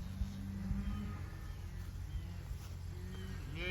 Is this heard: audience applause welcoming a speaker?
no